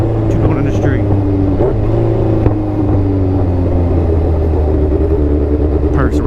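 Kawasaki Ninja H2 motorcycle engine and exhaust while riding in the street, a loud steady drone with slight rises in pitch, heard close throughout.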